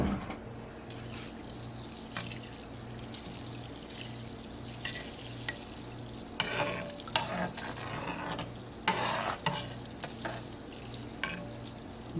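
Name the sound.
stirring liquid in a pot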